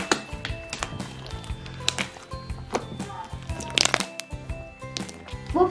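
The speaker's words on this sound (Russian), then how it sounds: "Тянется очень хорошо и хрустит." Close-up crunching and crackling of freshly made slime as it is stretched and squeezed, with irregular crisp bursts and brief squishy pops throughout.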